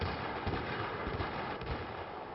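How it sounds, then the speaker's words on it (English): Game explosions during a 5vs5 domination match, a dense, continuous barrage of blasts and rumbling booms that stays loud throughout, with low thuds and crackling bursts overlapping. "We're hearing explosions now."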